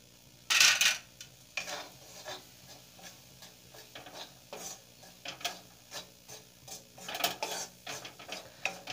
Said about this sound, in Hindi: हमारा घी अच्छी तरह मेल्ट हो चुका है, अब हम इसमें आटा डालेंगे।